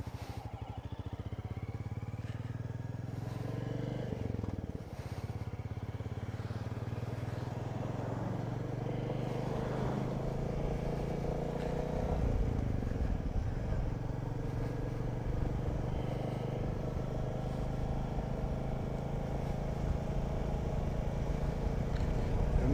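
A motorcycle, a Royal Enfield Classic, rides through the ghat roads of Dhimbam toward Coorg, its engine droning steadily with road and wind noise, swelling slightly in the later half.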